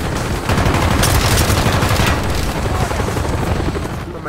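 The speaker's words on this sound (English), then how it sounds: "We're taking heavy fire from the helicopter." Heavy sustained gunfire in Call of Duty: Black Ops during a battle with enemy helicopters, a dense continuous roar of automatic fire and blasts filling the scene at high, steady loudness.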